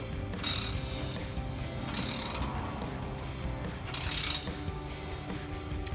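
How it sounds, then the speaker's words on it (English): A ratchet with a 15 mm socket tightens an exhaust nut on a Silverado 1500 during a muffler delete, giving three short close bursts of rapid clicking over a steady low background hum. "I'm going to take my 15 mil socket here and ratchet. We're going to tighten it down."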